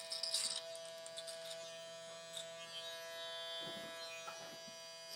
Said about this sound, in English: I'll be using the foil shaver to kind of follow the flow of the beard